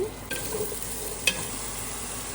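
Vegetables being stirred in a frying pan for mint rice give a soft, continuous sizzle, broken by a couple of short scraping strokes of the spoon.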